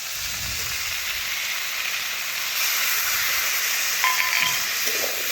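Water hits a hot pan of frying vegetables with fish head, giving a loud, steady hiss that swells slightly partway through, with faint clatter of a spoon or bowl near the end.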